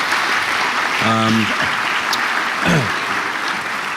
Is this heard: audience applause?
yes